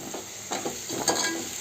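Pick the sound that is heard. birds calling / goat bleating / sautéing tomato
sautéing tomato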